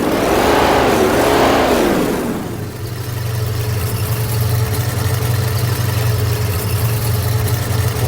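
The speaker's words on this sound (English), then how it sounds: "rev up the engine." A rock crawler's engine in the Dreams game revs up in two rising and falling surges, then settles into a steady, loud, low idle drone that continues to the end.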